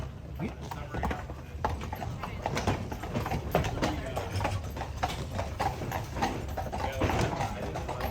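Brown horses pulling a tour carriage on Mackinac Island clip-clop in a steady hoof rhythm on the road, close and continuous, with people chatting over it.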